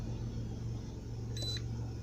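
Car seatbelt warning chime in a Ford Transit Connect, one short electronic beep over a steady low engine-idle hum, no talk.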